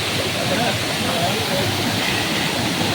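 A waterfall pours down a mountainside in a Kanyakumari forest, a steady broadband rush of water with no clear speech.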